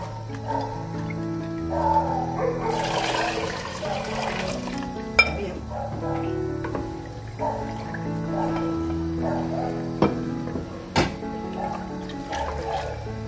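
Water being poured and added to gram flour and yogurt for kadhi, with liquid splashes, drips and occasional clinks of utensils against the vessel, under a continuous humming background with someone talking at times.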